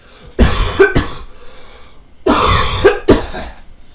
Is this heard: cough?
yes